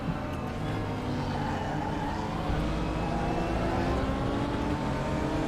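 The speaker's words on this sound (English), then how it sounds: "Can't really hear my car over the other cars." Several racing cars' engines in the Raceroom video game, a dense steady drone of multiple engines revving together, moderately loud and continuous with no talk over it.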